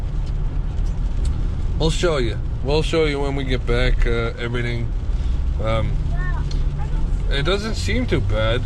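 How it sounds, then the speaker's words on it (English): A 2004 GMC Envoy SUV idles steadily with a slightly leaky exhaust, its low engine rumble running continuously beneath close, clear conversation. "I do hear in the exhaust. I hear a little hole"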